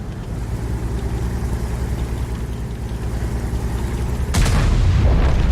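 A Type 5 Heavy tank's cannon fires in a tank battle video game, one heavy, booming shot breaking suddenly over a steady low engine rumble near the end.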